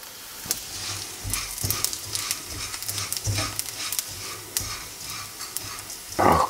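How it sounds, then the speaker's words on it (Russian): Buckwheat sizzles and crackles in hot oil while a utensil scrapes and taps the pan in irregular stirring strokes, close up and with no talking. "И теперь жарим на масле."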